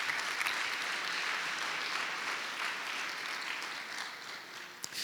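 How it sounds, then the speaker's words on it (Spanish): A church congregation claps together in sustained, even applause during a Friday prayer service, a dense close wash of hands that fades slightly toward the end with no talk over it. "Dale un aplauso al Señor, por favor."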